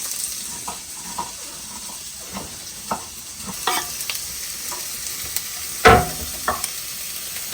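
Cinnamon, cloves and onion sautéing in a pan, a steady sizzle with intermittent stirring scrapes and a louder clink near the end.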